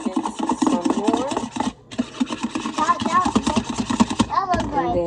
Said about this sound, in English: And then we're going to whisk it some more.